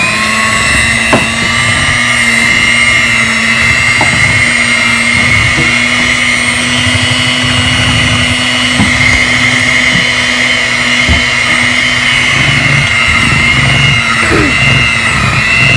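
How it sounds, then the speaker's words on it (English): An electric mixer whirs steadily at a barbecue night, a loud, continuous motor whine with a constant pitch, faint knocks scattered through it and no pause from start to finish. "So you're going to then grab your mixer and then turn it on."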